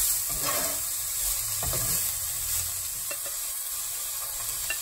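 Carrots frying in a pan, a steady close sizzle with occasional scrapes and knocks as they are stirred, no voices.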